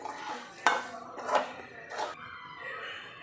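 A spoon stirs moringa (drumstick leaf) rice in a metal pot, striking the side in three distinct metallic clinks about a second apart, followed by a short quiet scrape.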